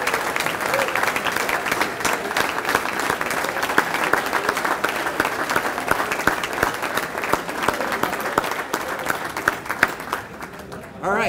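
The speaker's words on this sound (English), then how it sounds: "Let's give you guys all a big round of applause." Sustained round of applause from a dinner audience honoring senior student athletes at an awards banquet, dense clapping holding steady before thinning toward the end.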